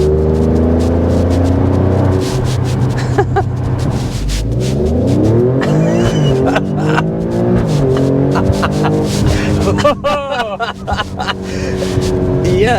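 A 2024 Alfa Romeo Stelvio Quadrifoglio engine roars loudly as it accelerates from a standstill uphill, revving through rising gear pulls and sharp shifts, with people talking excitedly over it.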